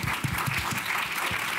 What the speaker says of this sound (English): so let's give Dan a round of applause